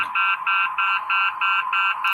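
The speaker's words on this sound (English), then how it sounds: "If everyone can hear the draft buzzer when you're running out of time" A fantasy football draft timer buzzer pulses in a steady series of about seven even beeps, loud and close, with no talking.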